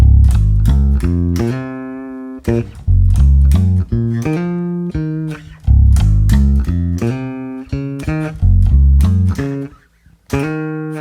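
A plucked bass guitar line, a steady run of low notes and a few sustained, ringing tones, played alone with brief pauses between phrases.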